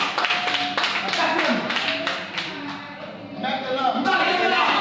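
A church congregation applauds in sustained, dense clapping that swells and dips slightly, with voices mingling underneath throughout.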